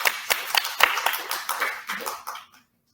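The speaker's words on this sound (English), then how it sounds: "So a round of applause for Andreas Rudenau" A small workshop audience gives a short burst of scattered clapping for a presenter, a few quick claps that thin out and stop within a few seconds.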